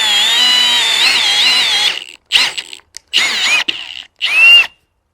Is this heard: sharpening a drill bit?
yes